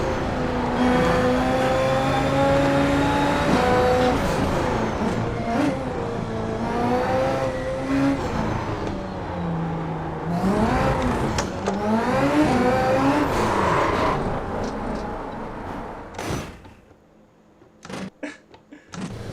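Race car engine in the iRacing sim, loud and close, revving hard through a run of quick right-left slalom corners, pitch climbing and dropping with each shift and lift, then cutting out to near silence with a few short bursts near the end.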